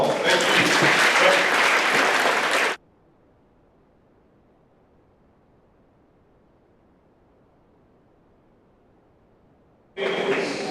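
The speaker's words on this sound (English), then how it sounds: "Let's give you one more round of applause" A school assembly crowd applauds veterans in a burst of dense clapping, then falls abruptly to near silence before clapping resumes briefly at the end.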